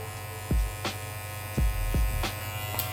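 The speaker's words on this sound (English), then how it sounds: "So we started with the trimmer, lever open" An electric hair trimmer with its lever open works through curly hair during a barber blowout cut, giving a steady low buzz with several sharp bursts as the blades bite in, close and alone.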